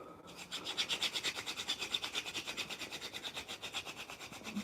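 A bow drill spindle is worked against a fireboard to make a friction fire. It gives a steady, close rasping rub in quick back-and-forth strokes, about twenty rhythmic pulses with no talk.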